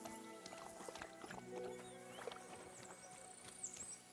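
Horses in the video game Kingdom Come: Deliverance 2 make faint hoof clops and small shuffling sounds, quiet and scattered, with a few brief tonal game sounds in the background.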